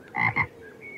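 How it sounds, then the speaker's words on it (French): Frogs croak twice in quick succession, close and fairly loud, with a short pause between the two throaty calls and a faint background afterward. "ce sont des coassements"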